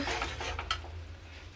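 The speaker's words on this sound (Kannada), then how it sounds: "ಲೋ ಫ್ಲೇಮಲ್ಲೇ ತಿರುಗಿಸ್ಕೊತಾ ಇದ್ದೀನಿ ನಾನು" A spoon scrapes and clinks against a pan as a curry is stirred on a low flame, a short run of light metallic taps over a soft background.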